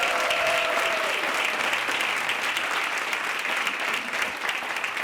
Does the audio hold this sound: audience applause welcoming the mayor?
yes